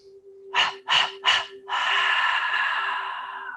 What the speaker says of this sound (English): we're going to do 3 quick exhales and then a long sigh